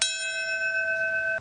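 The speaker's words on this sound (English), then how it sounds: "Bells" A single bell strike rings out at the Ground Zero 9/11 memorial ceremony in lower Manhattan, a clear tone that sustains steadily for over a second before cutting off.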